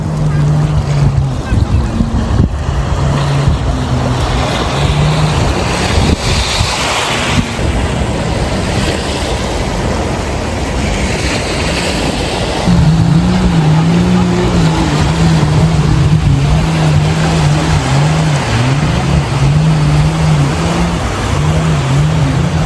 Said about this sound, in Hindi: अच्छा, अभी एक और बोट आई